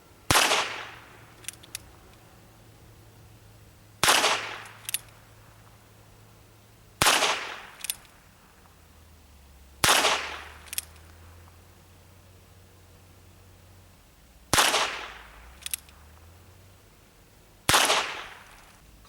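A Ruger Wrangler revolver firing .22 Long Rifle rounds at a target about 10 yards away, six sharp, loud single shots spaced a few seconds apart, with quiet handling between them.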